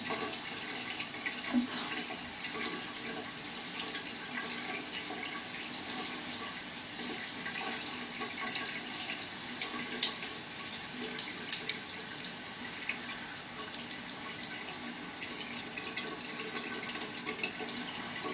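Water runs steadily from a sink tap while a face is rinsed, a continuous soft splashing hiss that stays even throughout.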